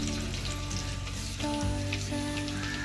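Steady, close sizzling and crackling of curry leaves and asafoetida frying in hot oil for a dahi kadhi tempering, with a brief burst of louder spattering partway through; no voices.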